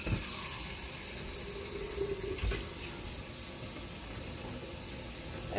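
Hot water running steadily from a kitchen tap while beef hoagies are being made, a continuous broadband splashing hiss at close range that holds at an even level throughout, with no talking.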